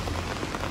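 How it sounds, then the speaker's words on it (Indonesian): Heavy rain pours down steadily in Japan, a dense, even wash of drops close by with no other sounds standing out over the short moment. "Wah hujan lagi, hujannya tuh deras."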